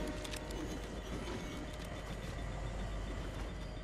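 A video game train rumbles along with a steady rolling clatter and faint wheel squeal, quiet and continuous in the background with no voices.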